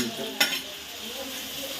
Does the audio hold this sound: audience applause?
no